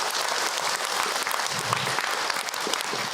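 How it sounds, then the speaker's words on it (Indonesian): An audience at an Islamic religious lecture by Ustadz Hilman Fauzi claps together in a dense, even burst of applause that holds for a few seconds. "boleh tepuk tangan untuk Ahilman Ibu"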